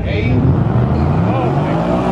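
Race car Ruby at Houston Raceway drag strip, a loud continuous engine roar under crowd noise and voices, steady and close through the whole stretch.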